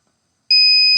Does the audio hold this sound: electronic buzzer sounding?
yes